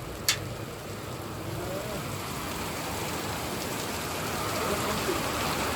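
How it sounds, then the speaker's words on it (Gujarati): Heavy rain pours down outdoors in a steady, dense hiss that holds at an even level, with a single sharp knock near the start and no clear voices. "જોરદાર વરસાદ પડે છે"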